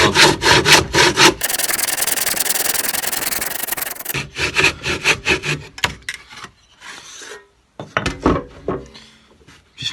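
A hand saw rasps through timber clamped in a vise, rhythmic back-and-forth strokes speeding into a dense continuous grind, then slowing to a few final strokes as the cut finishes, close and loud.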